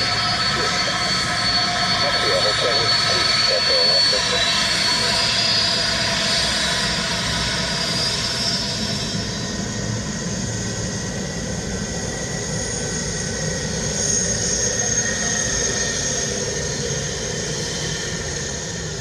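Jet aircraft passing over Dublin Airport, a loud sustained engine roar that swells early on and then slowly fades as it moves away, with no talk over it.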